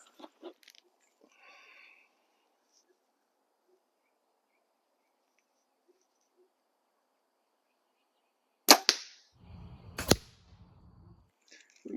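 An archery bow looses arrows outdoors, two sharp snapping releases several seconds apart after a long near-silent stretch, with faint chirps in the background.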